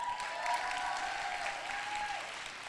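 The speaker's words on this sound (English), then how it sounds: "Can we just give one more round of applause?" Audience at a teen poetry slam finals in a theater breaks into sustained, dense applause that stays loud and even throughout, with a faint tone running beneath it.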